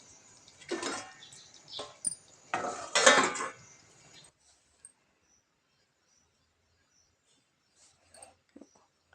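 Stuffed eggplant curry (bharli vangi) stirred in a pan: a few bursts of spoon scraping and clinking against metal in the first four seconds, then near silence with faint tiny clicks.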